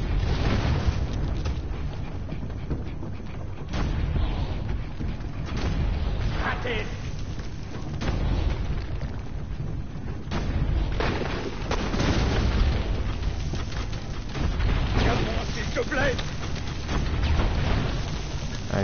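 Cannon fire and explosions from a tank destroying cannons in the video game Assassin's Creed Brotherhood, with repeated booming blasts and rumbling over a dense, loud mix, and someone talking throughout.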